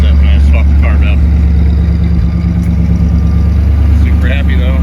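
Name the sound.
1958 Buick Roadmaster engine high idle, new exhaust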